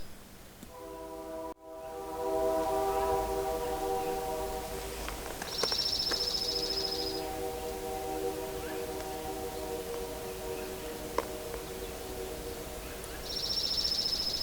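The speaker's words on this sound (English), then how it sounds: "the silence is soon broken by a K3L train horn echoing through the mountain" A Canadian Pacific K3L train horn sounds a long sustained chord that echoes through the mountains of the Windermere Subdivision, fading slowly on a quiet morning, with brief high bird calls and light rustling around it.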